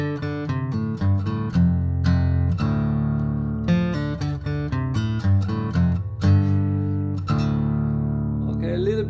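An acoustic guitar plays a riff in drop-D tuning, with plucked notes and ringing chords in a steady, close, moderately loud rhythm for about nine seconds and no talking.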